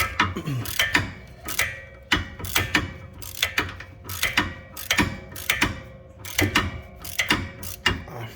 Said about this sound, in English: I should have used a different ratchet, but that's what I have